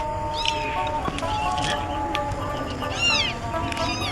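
A cat meows a few times, its rising and falling cries standing out over steady background noise and some murmured voices.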